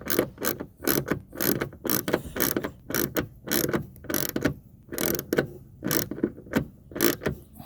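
A ratchet wrench bolts the windshield wiper transmission back into a 2006-2018 Jeep Wrangler JK, a steady train of sharp, close clicking bursts in quick regular strokes with short pauses between, with no one talking.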